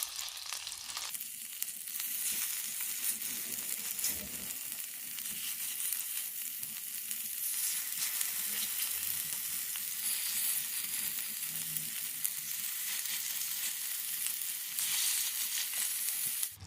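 Salmon and butterfly-cut shrimp fry together in a pan, holding a steady, moderately quiet sizzle with crackling texture for the whole stretch and no voices.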